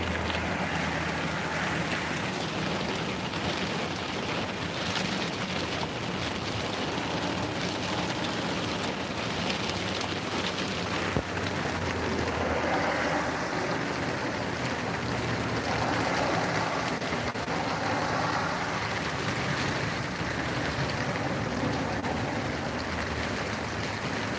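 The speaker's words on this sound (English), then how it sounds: "Raining pretty hard here right now." Heavy rain falling steadily during a storm chase in Oregon, a dense, even hiss of downpour on surfaces that holds at the same loudness throughout, with no voices.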